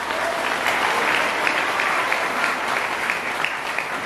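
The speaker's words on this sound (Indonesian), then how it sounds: "Tepuk tangan untuk Muslimat." Dense, steady audience applause fills a gathering honoring Muslimat Nahdlatul Ulama at a national-heroes themed event, many hands clapping loudly and continuously without pause.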